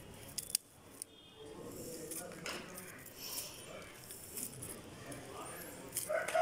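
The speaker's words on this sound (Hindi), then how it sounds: "तो आप देख रहे हैं मैं इसके पत्ते काट रही हूँ, इसके साथ साथ मैं पतली टहनियाँ भी काट रही हूँ।" Shears snipping leaves and thin twigs from a rose plant during pruning, a few faint, crisp cuts heard early amid soft background noise and a voice.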